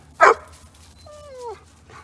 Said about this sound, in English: This is the Australian Shepherd dog pen.